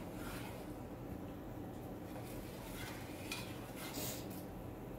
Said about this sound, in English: Then I just stir it.